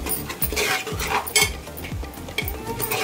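Spices like turmeric, cumin and coriander powder being stirred into pav bhaji vegetables in a pan, with steady rhythmic scraping and clinking of a spoon against metal about every half second, close and moderately loud.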